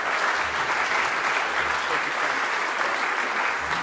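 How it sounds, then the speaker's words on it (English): Audience applause after a guest is called up at a bushfire appeal donation event, a dense, steady wash of clapping from a large crowd throughout. "Please give him a round of applause."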